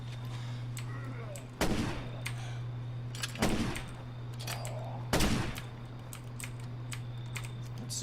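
Gunfire in the zombie survival video game State of Decay comes as a few separated loud cracks over a steady electrical hum, along with faint clicking in between.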